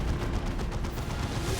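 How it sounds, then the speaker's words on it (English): Heavy cannon fire from a Baneblade super-heavy tank in the strategy game Dawn of War 2 Retribution during a 3v3 match, a dense rumbling barrage of booming blasts filling the whole stretch at steady loudness. "Was that Demolisher Cannon? Must have been the main battle cannon."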